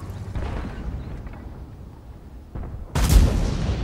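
A tank cannon fires in World of Tanks, one heavy booming blast near the end with a rumbling tail, after quieter distant thuds of battle.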